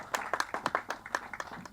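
Audience applause at a film press meet for the movie Kanyakumari, welcoming director Srujan Attada onto the stage: a short burst of uneven clapping from a modest crowd, fairly close, with no talk over it.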